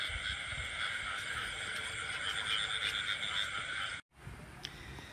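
A dense chorus of frogs croaks and trills steadily at night in the open, loud and continuous, cutting out abruptly near the end before faintly resuming.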